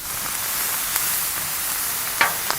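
Shrimp frying in beef fat on a Blackstone griddle, a steady broadband sizzle running throughout with a few sharp spatula scrapes and pops near the end, no talking.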